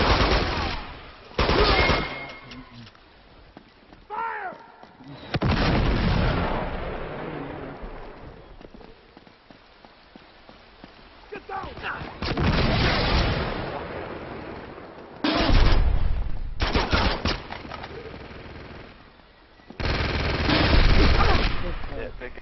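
Uncharted 2 co-op arena in the Lost City brings repeated loud volleys of machine-gun and rifle fire, broken by quieter gaps, with the bursts coming and going in waves.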